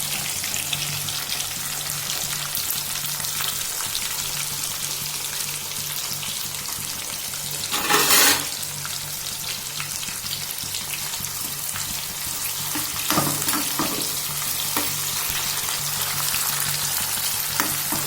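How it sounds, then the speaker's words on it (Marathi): Tomatoes and a little green chilli sizzle in a pan already holding onion and curry leaves. The frying hiss is steady and continuous, with brief louder spurts near the middle and later on, and nobody talks. "आता टाकले टमॅटो, थोडीशी हिरवी मिरची टाकली आहे."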